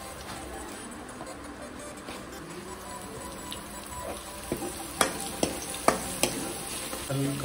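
Garlic paste fries in a pan for a mushroom curry with a steady, close sizzle. Several sharp spatters and utensil taps come near the end, and a brief word is spoken.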